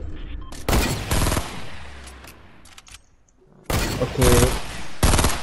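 Gunfire in Fortnite comes in loud, dense bursts of rapid shots, one early burst and then another after a quiet stretch, with a brief spoken word between them.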